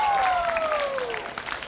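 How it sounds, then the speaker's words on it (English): Audience applause at a poetry slam, a dense wash of clapping filling the space steadily and loudly, with a whistle-like tone sliding downward through it. "can we have another round of applause for not only Eleni, but everyone who participated today?"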